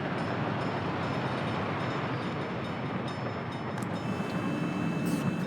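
A train rumbles steadily as it pulls out in the city-building game Workers & Resources: Soviet Republic, a continuous broad roar with a faint tone and brief clicks near the end.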